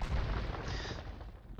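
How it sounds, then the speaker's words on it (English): Bombard cannons firing in the strategy game Age of Empires II, a dense run of low, booming artillery blasts with a rumbling tail, loud and continuous throughout with no speech. "And Cannoneers bombard cannons coming in."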